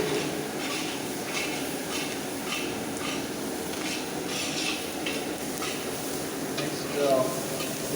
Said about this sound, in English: at this stage, I'm going to add the curry leaves